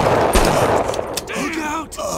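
Gunfire in the video game 25 to Life: a quick run of sharp shots up front, followed by a voice speaking over continuing game noise.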